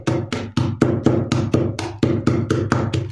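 A hammer pounds a bag of corn kernels at home in a steady series of about thirteen sharp, loud blows, each strike followed by a brief crunching decay, with no talking.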